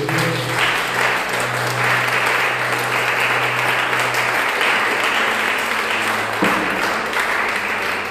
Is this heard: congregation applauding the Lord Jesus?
yes